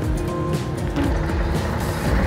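Long bus moving nearby with air brakes, a dense rumbling engine and road noise with short hissing bursts, no clear talking.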